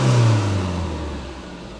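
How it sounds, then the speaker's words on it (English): A high-mileage Volvo's engine, a car past 430,000 miles, is blipped with the throttle: a loud close rev that swells and then winds down into a steady idle whir. "give it a couple of blips and we'll just see how bad this smoke is"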